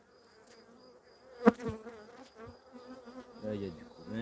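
Honeybees buzzing at an open hive, a continuous close hum of many bees with a sharp knock partway through and a few passing louder buzzes near the end.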